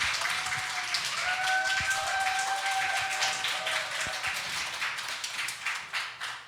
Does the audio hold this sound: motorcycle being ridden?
no